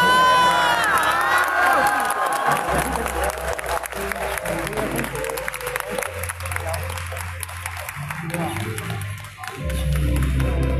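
A crowd at a Kaohsiung press event cheers, claps and shouts together, loud and sustained at the start and continuing more raggedly under a low musical drone, with children's voices mixed in.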